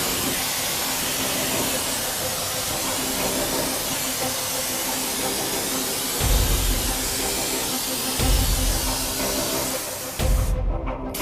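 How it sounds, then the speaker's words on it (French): An insecticide aerosol can sprays a wasp nest in a long, loud, steady hiss that runs almost without a break, with a few low thumps of handling near the end. "J'ai vidé la moitié de la bombe."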